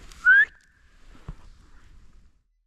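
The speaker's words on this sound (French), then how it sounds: "Je le fais arrêter en sifflant" A single short, loud rising whistle from a person, made to stop an animal during a hunt, cuts through near-silence, followed by a faint thud and quiet rustling.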